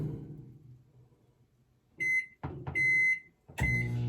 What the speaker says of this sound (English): put them in the microwave first